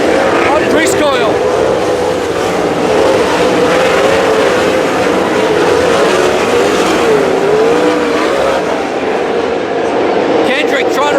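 Race cars roar around a speedway in a continuous loud engine drone with a wavering pitch, the pack of cars close and dense, while an announcer calls the race over the top throughout.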